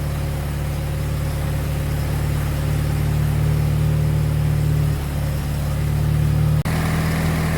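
A Ford GPW jeep engine idles on choke with a still-cool manifold, a close, steady, even low rumble that dips once briefly near the end.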